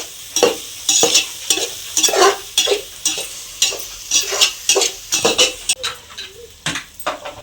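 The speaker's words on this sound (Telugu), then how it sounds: "కలపండి బాగా కలపాలండి చూడండి" A spoon stirs egg and tomato frying in a pan, giving repeated scraping, clinking strokes over a steady sizzle, close and fairly loud, with no talking.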